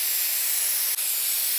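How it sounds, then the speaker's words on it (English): Matte blue spray paint hisses steadily from an aerosol can in one close, continuous burst with a brief dip near the middle. "I had to give it a number of coats of a matte blue spray paint."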